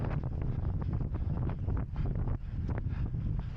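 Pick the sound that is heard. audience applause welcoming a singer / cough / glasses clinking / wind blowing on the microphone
wind blowing on the microphone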